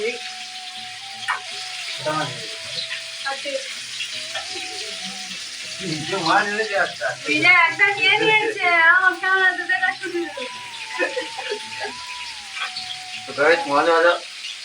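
Fish sizzles and spits steadily in hot oil in a pan, a close, continuous frying hiss with a stronger burst near the middle, while people talk over it throughout.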